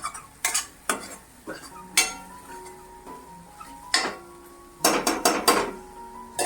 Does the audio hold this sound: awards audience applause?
no